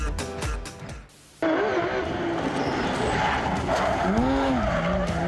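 A sports car skids fast around a bend on the road, tires squealing in rising and falling wails over a rough engine roar after a brief lull, loud and close.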